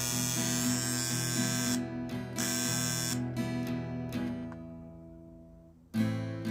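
A buzzing electric hair clipper over 20 years old runs steadily with a harsh hum, stopping and restarting in short bursts, then falling quiet before starting up again near the end.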